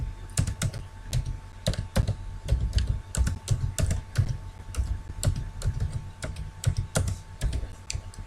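Fingers type an email address and password on a computer keyboard, producing a steady run of close, crisp key clicks in uneven bursts with brief pauses between them.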